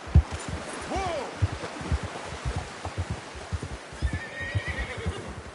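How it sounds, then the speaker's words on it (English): A horse whinnies with a rising, shaky cry over steady hoofbeats clip-clopping along, with a higher call trailing faintly near the end, in the video game Red Dead Redemption II. "How's that new horse?"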